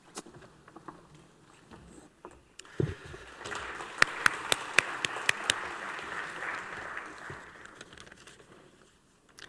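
Applause from a conference audience at a Mediterranean blue economy event builds into a steady patter of many hands, with a few sharp, close individual claps standing out before it fades away.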